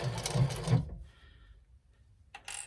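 A sewing machine stitching across fabric, with a short burst of loud rapid mechanical whirring, then quiet with faint motor hum, and another brief stitching run at the end.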